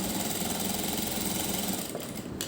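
A sewing machine runs steadily, stitching along the folded edges of fabric for a boat neck blouse, a continuous close mechanical whir that holds even and then dips briefly near the end.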